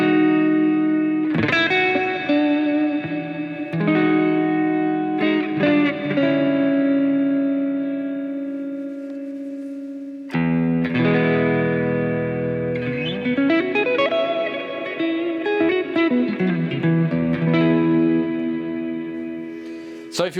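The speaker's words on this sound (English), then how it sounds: "I added reverb to this because, well, it had reverb, but I just lengthened it to see how long it gets." Electric guitar played through a JBL Bandbox Solo amp with extended reverb, sustained chords and sliding notes ringing out with long echoing tails and a dense, effects-heavy tone, loud and alone.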